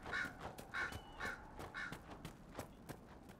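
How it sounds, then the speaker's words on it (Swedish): Red-eyed ravens caw in Dragon Age Inquisition, a run of harsh, repeated calls at a steady rhythm, moderately close and fairly quiet, with no talk over them. "Väldigt många så här korpar med röda ögon."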